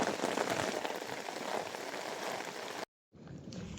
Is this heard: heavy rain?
yes